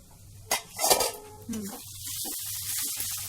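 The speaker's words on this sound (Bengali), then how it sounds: "ঢাকনাটা সরিয়ে দেখি" A metal lid clatters off a pot of spice paste simmering in oil on a gas stove: a sharp clank, then a louder clatter and scrape, over a steady low sizzle and hum.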